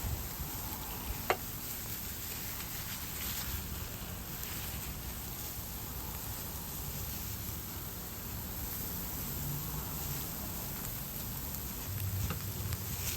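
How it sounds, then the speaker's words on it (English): Ginger sizzles in a pan for curried okra, a faint, steady hiss of frying that stays even throughout with no talk. "we're going to add the ginger in there. Let it cook for another couple, maybe 30 seconds."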